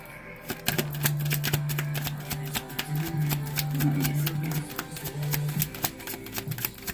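Large card decks being shuffled up close, a rapid run of crisp riffling clicks and snaps over a low steady hum, with no talking.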